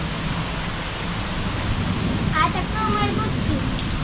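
Steady rain hisses all around in a dense, even wash, with a few faint chirps near the end.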